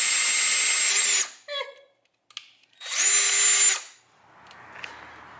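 A power drill whines at high speed in two bursts of about a second each, drilling bolt holes for a winch mount on a Squarebody truck, separated by short clicks and handling noises, close by.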